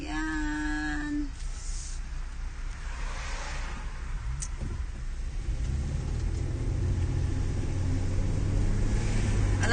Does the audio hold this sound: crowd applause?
no